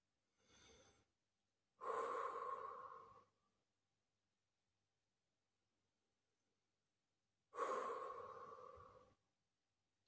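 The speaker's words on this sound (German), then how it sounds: "Ich atme jetzt überdeutlich," Slow, deliberate breaths close to the microphone: a short inhale, then two long, loud exhales separated by several seconds of silence.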